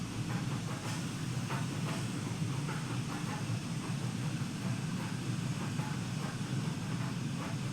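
A service train rolls past in Train Sim World 5, a steady broadband rumble and rail roar that holds at an even level throughout with faint clattering, heard from outside the train.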